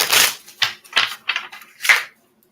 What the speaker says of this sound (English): Give it another shuffle to see what's going on.